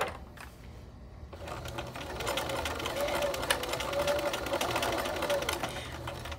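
A sewing machine stitching a quilt-as-you-go mug rug with selvage edges, a steady close mechanical whirring with rapid needle rhythm, briefly starting and then running continuously.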